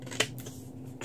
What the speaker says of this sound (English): Needs to be trimmed down just a hair more